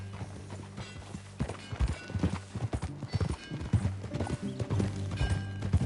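Horse hooves clip-clopping at a riding pace in the Western video game Red Dead Redemption 2, steady and fairly close, over a low ambient hum with a faint whinny.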